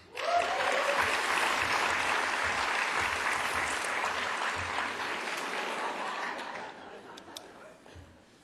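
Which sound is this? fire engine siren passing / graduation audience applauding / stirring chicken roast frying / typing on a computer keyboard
graduation audience applauding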